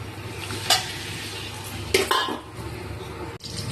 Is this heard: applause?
no